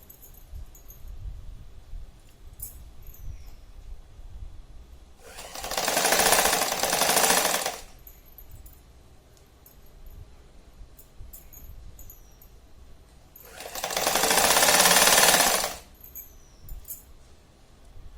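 Domestic sewing machine stitching a tiny doll dress, two loud sustained bursts of fast mechanical stitching, each about two to three seconds long, separated by quieter handling noise.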